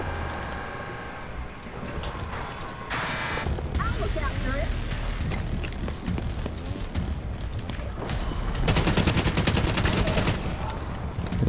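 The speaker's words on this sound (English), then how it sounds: "it's just the automated or the mounted machine gun" Mounted machine gun in The Division 2 video game firing rapid bursts, with a sustained loud stretch of fire near the end, mixed with other battle noise and someone talking.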